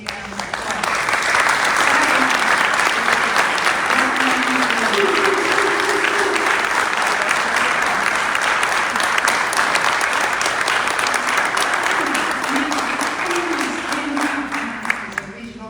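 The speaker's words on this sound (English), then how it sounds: "let's give them a big round of applause" A large audience breaks into sustained, dense applause for volunteers at a regional grassroots political gathering, loud and steady for the full stretch, with a few voices cheering faintly underneath before it tapers slightly at the end.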